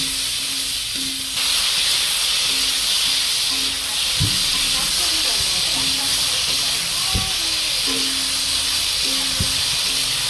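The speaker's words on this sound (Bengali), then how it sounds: "দিয়ে ভালো করে কপিটা ভেজে নেব" Cauliflower sizzles in hot oil with a constant bright hiss, broken by a few sharp pops and a low steady hum underneath.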